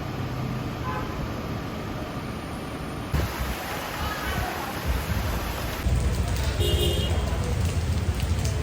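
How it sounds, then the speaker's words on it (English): Steady rain pours down on a street in Ho Chi Minh City, a dense continuous hiss with low rumbling underneath, growing a little louder and brighter partway through. "More rain."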